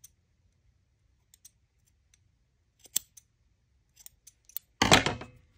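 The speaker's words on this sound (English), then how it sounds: "You can trim up the edges a little bit," Scissors trim the edges of a yarn pom-pom: a few sparse, quiet snips and clicks, then a louder close cutting crunch near the end, with no talking.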